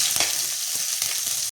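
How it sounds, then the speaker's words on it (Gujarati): Chopped onion hits hot oil in a pan for a chow mein stir-fry, giving a loud, steady close-up sizzle with a few soft stirring knocks, cutting off abruptly at the end. "હવે નાખીશું આપણે ડુંગળી."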